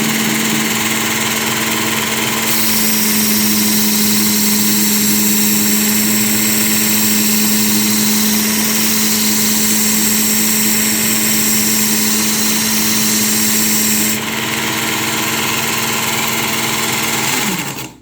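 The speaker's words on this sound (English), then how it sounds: "So I will do a little bit more grinding" A powered grinder hums loudly and steadily with a constant motor drone while sharpening the Tanto point of a Tops knife, continuous for nearly the whole stretch before cutting off at the end.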